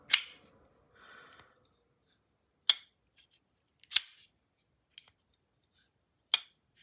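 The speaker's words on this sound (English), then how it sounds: "So it really clacks open that I like" CKF Elite folding knife flicked open several times, giving sharp isolated clacks spaced a second or so apart, close and crisp, with a softer click in between.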